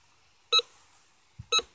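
Metal detector pinpointer sounding over a buried target in the bush, two short, sharp electronic beeps about a second apart, faint and close with quiet background between them.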